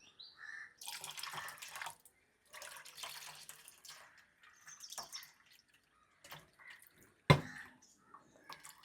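Banana peel soaking water is poured in a few short bursts, splashing and trickling with pauses between, close by and fairly quiet.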